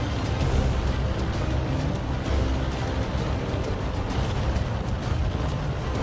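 Dense, continuous rumbling roar of tank game combat with the Bat.-Châtillon Bourrasque, heavy booming artillery blasts layered throughout, loud and steady with no clear pauses.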